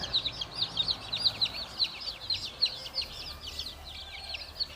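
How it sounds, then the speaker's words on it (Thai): Day-old chicks of mixed breeds peeping in a rapid, continuous chorus of high chirps while they start pecking at feed, fairly quiet and close, with no talk. "น้องไก่ก็เริ่มจิกอาหารละ"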